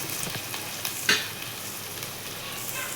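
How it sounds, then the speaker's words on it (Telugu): Onions frying in a pan for egg omelette curry, a steady close sizzle and crackle running throughout with one brief louder pop near the middle. "ఇలా ఉల్లిపాయలు వేగిపోయినాయి"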